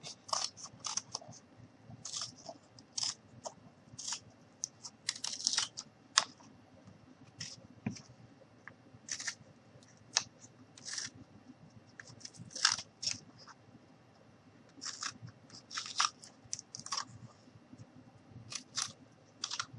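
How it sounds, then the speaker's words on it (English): Scissors snip through cardboard while a small pan shape with a handle is cut out by hand, giving many short, crisp, close cuts in uneven bursts across a quiet room with no talking. "I'm going to go ahead and cut it out."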